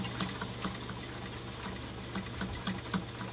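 Brother 190 Flairmatic sewing machine running steadily with a low motor hum and a quick repeating needle patter, close and continuous, with no talk over it.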